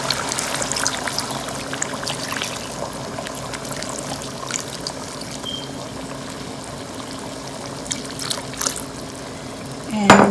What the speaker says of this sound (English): So now I will add 2 cups of water.